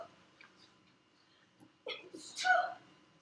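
A person sneezes once in a classroom, a short sharp burst at moderate distance after a soft inhale, in an otherwise quiet room.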